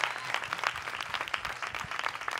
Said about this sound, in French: On applaudit l'équipe de Jérôme